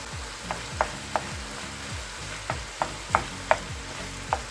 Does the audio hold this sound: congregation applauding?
no